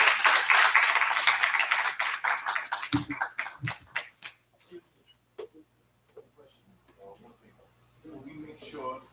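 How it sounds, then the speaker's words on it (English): Conference audience applause fades into scattered claps, loud at first, then tapering off over a few seconds, followed by quieter room noise and brief talk. "please help me give a round of applause to Dr. Kado."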